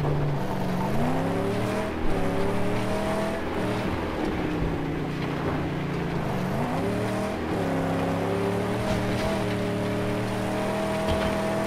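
A car driving in the Mad Max video game, its engine droning steadily with rising and falling pitch as it shifts and accelerates, loud and continuous with no talk over it.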